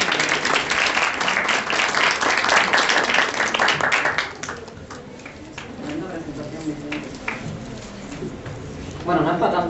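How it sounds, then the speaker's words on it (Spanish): Audience applause at an academic colloquium panel, loud dense clapping for a few seconds that drops off abruptly, followed by a speaker talking over lingering scattered claps. "recibámosle con un aplauso"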